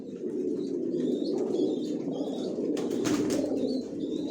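Racer pigeons in a loft make a steady murmur of cooing and soft calls, with brief bursts of wing flapping rising above the continuous flock sound.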